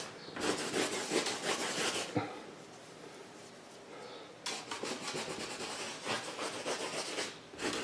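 Paint being rubbed out of a painting with a cloth or rag, a dry scrubbing rasp in quick repeated strokes, close and fairly loud, with a short pause midway before the rubbing resumes.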